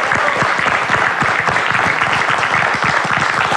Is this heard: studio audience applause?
yes